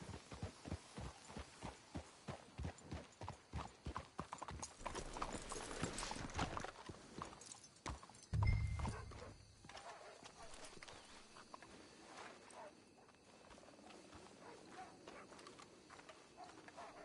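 Horses in Red Dead Redemption 2, a steady rhythm of close, distinct clip-clop hoofbeats, then a brief whinny and a low snort before the steps become quieter and irregular.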